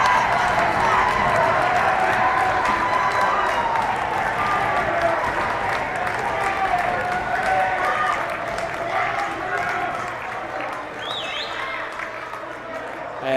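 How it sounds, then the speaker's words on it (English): A high school student section at a West Virginia state hockey championship cheers and applauds steadily after a 5-4 win. The dense crowd noise of clapping and shouting holds throughout, easing slightly toward the end. "Incredible for their student section who was there to cheer them on the whole way."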